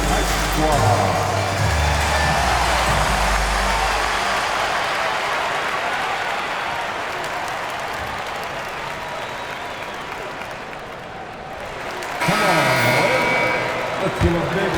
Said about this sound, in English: Let's give a big round of applause to your Lakers Ice Squad.